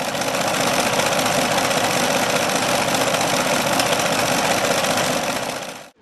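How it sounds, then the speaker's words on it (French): An automatic sewing machine in a mass-production setting runs at high speed, a dense, steady mechanical buzz that holds constant for several seconds before cutting off abruptly. "Voici une autre vidéo démontrant les capacités d'une machine à coudre automatique."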